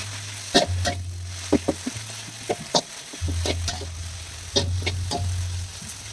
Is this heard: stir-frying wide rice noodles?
yes